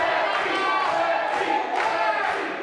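Wrestling crowd at an intergender match cheers and roars loudly, a dense continuous wall of voices with a few swells of shouting.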